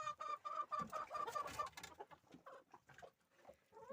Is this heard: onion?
no